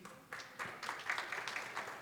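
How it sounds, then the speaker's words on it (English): Scattered applause from a small crowd, a few seconds of uneven clapping at moderate distance. "Could we give a round of applause for Nabila and her team, please?"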